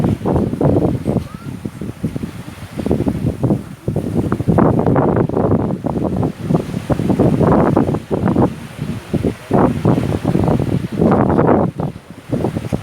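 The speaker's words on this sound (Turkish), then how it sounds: "Suyun sesi, dalgası gerçekten çok güzel insanı Ama biraz fazla rüzgar var bugün." Strong gusting wind buffets the microphone over the rush of waves breaking nearby, loud and continuous with surges throughout.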